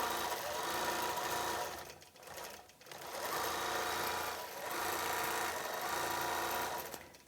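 Sewing machine quilting an antique chain quilt, a fast, even mechanical whir running almost continuously, with two brief dips where stitching slows or pauses; no voices.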